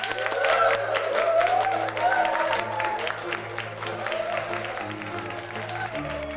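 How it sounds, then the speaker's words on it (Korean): Fan meeting crowd applauding as a guest is welcomed, a dense, sustained clapping with murmurs and faint cheering under background music. "다 같이 큰 박수를 맞이할까요?"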